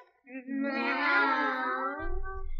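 A person imitates a cat's meow: one long, drawn-out wavering mew, followed by a low rumble of background noise at the end.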